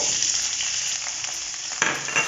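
Garlic, ginger and green chili frying in oil for a chicken roast give a steady, close, bright sizzle throughout, with a brief louder burst of crackling near the end and no talking.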